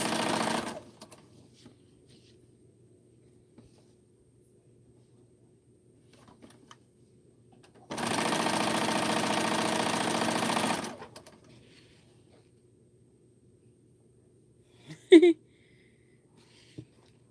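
A sewing machine piecing quilt blocks runs in two bursts, a brief one at the start and a steady three-second stretch, loud and close with near silence between.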